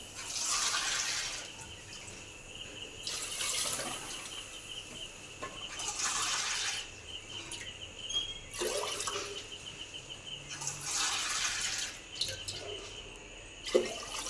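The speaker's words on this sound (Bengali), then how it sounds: "দেখো জল অ্যাড করে দিলাম" Water is poured into a cooking pot of rice and vegetables, making several soft, splashing pours in separate bursts over about fourteen seconds, with faint bird calls in the background.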